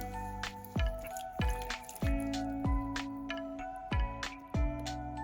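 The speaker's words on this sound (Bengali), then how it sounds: "এখন এটাকে পানি ঝরিয়ে নিচ্ছি ছাঁকনিতে করে" Water drains from soaked small dried loitta fish (Bombay duck) sitting in a kitchen strainer, giving a run of distinct close drips and splats roughly every half second over a soft steady trickle, with no talking.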